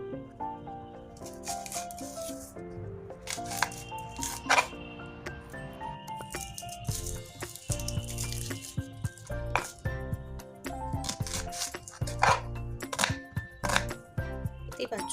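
Ingredients for a coriander fish dish are chopped in a kitchen, producing irregular knife knocks and clinks over a steady tonal background.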